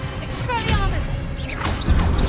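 An Expelliarmus spell is cast in the video game Hogwarts Legacy: a loud shouted incantation rides over crashing, whooshing magic effects and a heavy low rumble.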